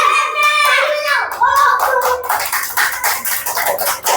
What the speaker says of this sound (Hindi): तालियां बज गई है, मतलब उत्तर सही है।